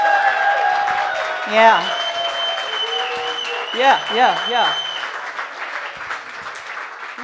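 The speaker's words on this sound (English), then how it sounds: "I demand a round of applause for Frank Starchak" Audience applause for Frank Starchak at a CD release party, steady clapping across the room with a voice speaking over it and a few short vocal whoops.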